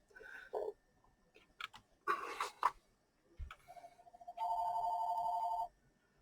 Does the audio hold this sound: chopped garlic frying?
no